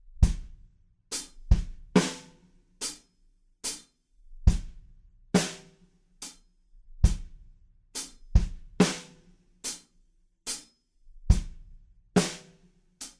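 Drum groove for a song with accented eighth-note hi-hats over kick and snare, played alone at a steady mid tempo with sharp, bright cymbal hits and punchy low drums.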